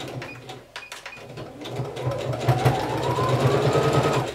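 A sewing machine stitches a kimono seam, starting with a few short bursts and then running in a fast, steady mechanical whir of needle strokes, close and fairly loud.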